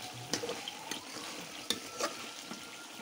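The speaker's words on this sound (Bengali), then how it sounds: "এতে বেগুন ভাজা হচ্ছে।" Eggplant fries in a pan on a clay stove, a soft continuous sizzle broken by a few sharp clinks and scrapes of stirring, close and fairly quiet.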